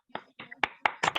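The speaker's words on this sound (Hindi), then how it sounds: "क्लैपिंग करें सभी ऑडियंस" Audience clapping to welcome guests at an event, a few scattered, uneven claps building into a brief burst, moderately close.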